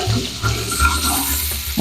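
Butter melting and sizzling in a pan on turned-down heat to baste a sous vide steak, a close, continuous crackling fry with soft bubbling.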